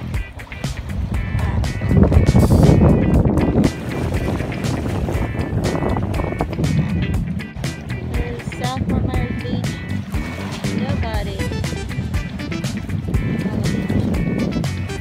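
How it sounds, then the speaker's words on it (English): A wave runner personal watercraft riding on the open Gulf, its engine droning steadily under rushing wind and splashing water, loud and close throughout. "We got a wave runner though."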